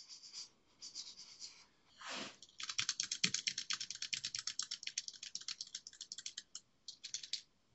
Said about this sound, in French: je vais taper sur mon clavier, et vous verrez que on entend les bruits